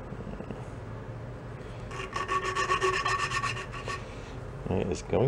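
Coarse abrasive grit rubbing against a part of an antique Briggs engine, a rasping scrape that builds for a couple of seconds mid-clip and then fades, close up with faint background noise.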